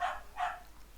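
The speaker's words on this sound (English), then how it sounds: "My dog is being noisy." A pet dog barking indoors, two short sharp yips about a third of a second apart, faint and slightly distant, with no one talking.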